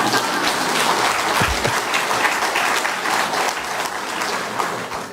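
A church congregation applauds during an afternoon service, a dense and sustained wash of many hands clapping that stays loud and steady throughout, with no voices heard over it.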